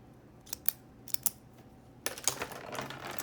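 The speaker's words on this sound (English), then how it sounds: "Here's a really high-end click from a Pilot Automac" A brand-new Pilot Automac ballpoint pen clicks close to the microphone, giving a few sharp, crisp mechanical clicks in two brief clusters against a quiet background.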